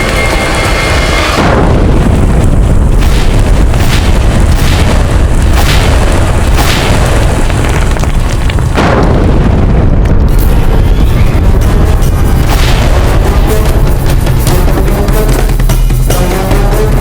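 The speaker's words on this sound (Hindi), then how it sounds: "धमाका हुआ है अकबर की छावनी में।" A gunpowder blast in a military camp erupts as a huge, continuous rumbling boom, loud and close, rolling on with crackling bursts and repeated thudding surges for many seconds.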